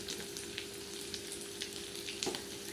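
Onion, tomato and homemade red chilli masala sizzling in a pan for a Konkan-style prawn curry, a steady close frying hiss with occasional stirring scrapes.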